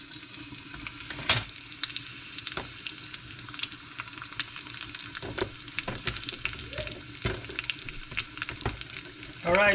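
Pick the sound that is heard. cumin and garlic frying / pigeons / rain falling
cumin and garlic frying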